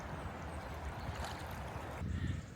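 Steady river flow in Podgorica, Montenegro, with soft gurgling and broadband rushing, continuous throughout and fairly close, with a slightly louder burst near the end.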